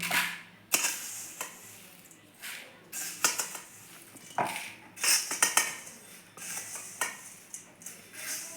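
Roasted rice flakes are scraped from a pan into a dish with a metal spoon, making repeated nearby clinks and scrapes in uneven bursts with short pauses between them.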